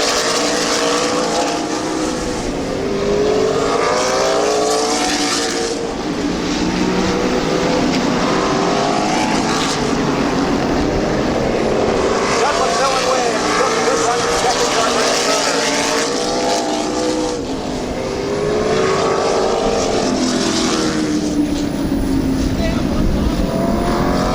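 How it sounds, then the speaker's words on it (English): A field of late model race cars roars around the oval at Midvale Speedway, loud continuous engine drone with swelling passes, while an announcer talks over the track noise. "White flag this time, 1 lap to go for McMillan, Ernie Shook, Tom Garbrandt"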